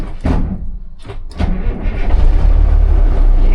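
A 1978 Kenworth K100 cabover truck's diesel engine cranks with a few thumping starter turns, then catches and settles into a loud, low, rumbling idle, close by.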